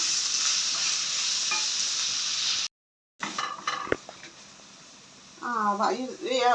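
Onions sauté with a spoonful of salt in a pan for a Kerala jackfruit and beef curry, giving a bright steady sizzle that cuts out briefly, then resumes softer with stirring clinks and a voice talking toward the end.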